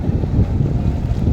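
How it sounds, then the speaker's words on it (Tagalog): Gusty wind buffets the microphone outdoors at the Okada Manila resort, a loud, continuous low rumble with no voices. "Ang hangin."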